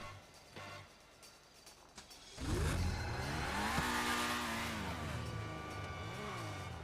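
A video-game Infernus Classic sports car starts quietly, then its engine bursts into a loud, sustained rev that rises and falls through gear shifts, close and dominant without talking.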